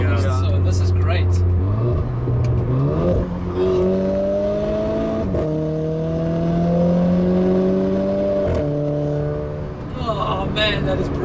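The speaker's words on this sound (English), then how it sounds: "Because of your great mods, this car sounds mega. Ooh, turbo whistle." A modified Renault Clio RS 220 Trophy hot hatch accelerating hard, its engine note climbing through several gear changes with sharp shifts, loud and close, with talk heard over it.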